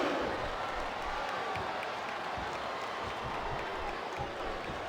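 Wrestling arena crowd in WWE Smackdown Vs Raw 2008 cheering and applauding during a match, a steady dense roar of many voices with scattered clapping that holds loud and even throughout.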